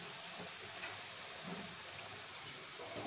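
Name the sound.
urad dal fritters (bora) frying in oil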